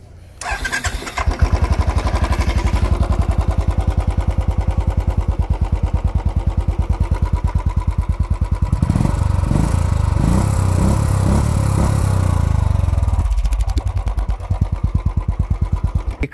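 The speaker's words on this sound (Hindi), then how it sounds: "ये जो एग्जॉस्ट है ये एक्रोपॉविक भी नहीं है, this is motor store India's legal exhaust. इसकी आवाज़ अच्छी है" Royal Enfield motorcycle fitted with a Motor Store India free-flow legal exhaust with ceramic coating, starting up and then idling with a loud, steady thumping beat, revved harder midway before settling back.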